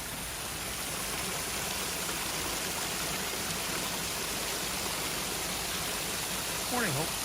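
A small urban creek carrying brownish construction runoff in Washington, D.C. flows with a steady, even rush of water, and a brief voice sounds near the end.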